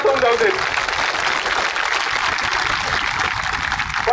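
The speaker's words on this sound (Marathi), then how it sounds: "तुमच्या सर्वांसाठी एक मोठ्या टाळ्यांचा गडगडाट होऊन जाऊ दे" Loud, sustained applause from a large crowd at a student protest march against contract hiring, a dense, even wash of clapping lasting several seconds.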